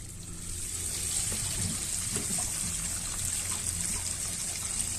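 An RV black water tank drains through a hose into a septic clean out with a steady rushing, gurgling flow of liquid, close and continuous throughout, with no speech.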